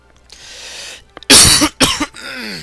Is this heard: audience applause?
no